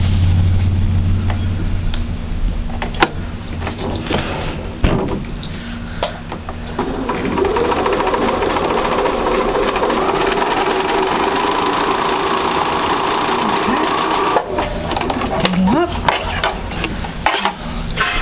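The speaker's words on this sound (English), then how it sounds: "now I need to sew this at 1/4 inch to replace the part that got removed" A sewing machine stitching a quarter-inch seam in quilt pieces hums steadily and close up with a fast, even whir, pausing briefly a couple of times before running on.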